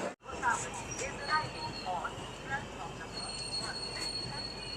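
An oncoming train passes a stationary train at Jajo railway station, heard as a steady rolling rumble with intermittent metallic wheel squeals, fairly close and continuous throughout.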